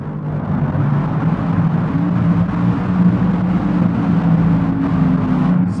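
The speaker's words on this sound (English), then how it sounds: "Richard Schroeder driving the beautiful Chevy Nova wheel stander, covering the entire quarter mile on his rear wheels" A Chevy Nova wheel-standing drag car runs the quarter mile on its rear wheels, a steady loud engine roar and rumble holding for several seconds with no voices over it.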